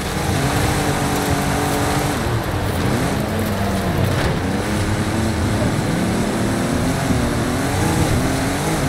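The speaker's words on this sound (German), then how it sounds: "da ist Jensen im Camaro Supersport" A Chevrolet Camaro Supersport engine races in Forza Horizon 5, a loud, steady roar whose pitch rises and falls as the car revs and shifts throughout.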